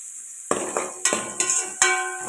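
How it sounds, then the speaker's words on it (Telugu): Whole spices (cloves, cinnamon, star anise, bay leaf) and onions for egg biryani fry in a pan, with a soft sizzle under about four sharp metal spoon clinks and stirring scrapes, close up, no voices. "ఇది ఇవి ఫ్రై చేసుకోవాలి లవంగాలు చెక్క స్టార్ పువ్వు బిర్యానీ ఆకు ఇవన్నీ వేసుకోవాలి"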